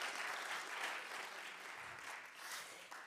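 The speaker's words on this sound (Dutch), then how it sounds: "Alvast even een heel hard applaus." Quiet, steady applause from an audience at a talk programme in Amsterdam, a broad wash of clapping heard from some distance without letting up.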